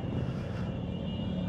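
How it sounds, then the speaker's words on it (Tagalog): A drone flies overhead outdoors, a steady droning engine hum with a constant buzzing tone that holds at even loudness throughout, fairly close and continuous with no voices. "May nagdo-drone pa doon"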